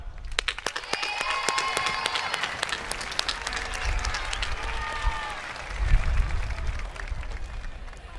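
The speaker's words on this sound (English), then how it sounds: "Let's applaud them." High school graduation audience applauding in a ceremony hall, a sustained wash of many hands clapping, fairly loud and steady for several seconds with a brief swell near the end.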